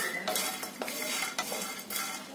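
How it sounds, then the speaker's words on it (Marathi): Spices dry-roasting in a pan for a Konkani masala, a spatula scraping and clinking against the metal in irregular strokes, close and fairly quiet with no talk. "मसाले चांगले भाजून घ्यायचे, करपवायचे नाही"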